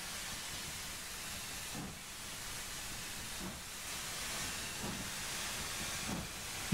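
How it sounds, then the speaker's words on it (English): A continuous loud steam locomotive hiss in Train Simulator fills the clip, with faint periodic chuffing pulses underneath, steady and close with no voices. "I do love the sound effects of a great Western steam engine."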